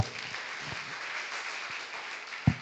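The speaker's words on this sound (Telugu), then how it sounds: "గట్టిగా చప్పట్లు కొడదాం" A church congregation at a Sunday worship service claps together in a steady, even burst of applause, fairly close, ending in one sharper thump.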